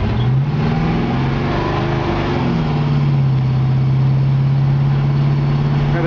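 A 1954 Chevy 3100 pickup cruising with its windows down on a hot day, a steady loud engine drone with a shifting tone, mixed with constant wind and road noise.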